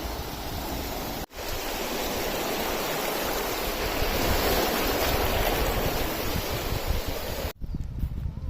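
Waves lapping on the shallow shore of Lake Balkhash, a continuous rushing wash with a steady level that briefly drops out twice, with no talking.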